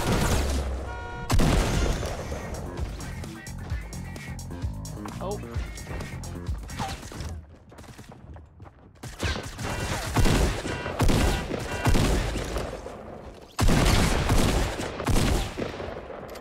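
Gunfire in the Fortnite Battle Royale video game, with rapid bursts of shots and booms running through most of the stretch, loud and close, mixed with game sounds and a player talking over it.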